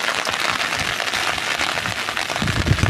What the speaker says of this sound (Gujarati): વરસાદ નો અવાજ તમને આવતો હશે